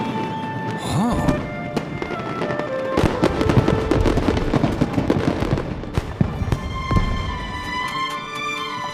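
Fireworks going off during a show in the video game Genshin Impact: sharp repeated bangs and crackling bursts clustered in the middle, layered over sustained musical tones and game ambience.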